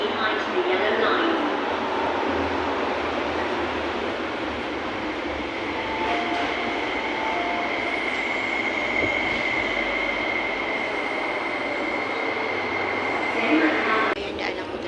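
Train at a station platform, a steady loud rumble of rolling cars with a sustained high squeal from the wheels, voices faintly mixed in.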